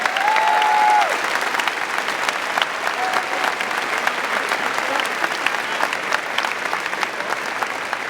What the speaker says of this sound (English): show our appreciation with a round of applause to both these teachers